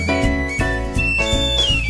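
A person whistles a bright, steady melody of sustained tones over a warm musical backing, loud and close with no speech.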